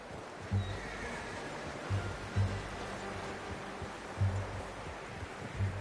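A horse whinnies and snorts a few times against a soft rustling background, with low hoof clops scattered throughout, in the video game Red Dead Redemption 2.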